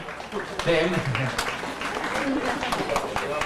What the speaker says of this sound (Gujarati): તમે બધાએ તાળી વધાવ્યા